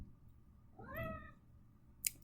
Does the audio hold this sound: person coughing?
no